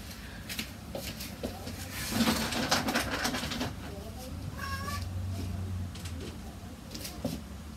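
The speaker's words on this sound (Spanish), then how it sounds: "Este que oís es mi gato" A pet cat meows a few times indoors, with short, moderately close calls mixed with rustling and handling noise, while a person talks nearby.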